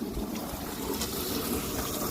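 Coolant drains steadily from the upper radiator hose of a 2016 Peterbilt 579, a continuous close trickling and splashing wash with no talk over it.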